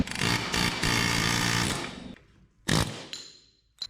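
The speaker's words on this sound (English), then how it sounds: "let the vibration just loosen it out and actually pry it out with the vibrations help" An air chisel vibrates against a part on a 1984 S-10 pickup to loosen it, giving a loud, close, harsh pneumatic buzz that runs for about two seconds, stops, then returns for one short burst.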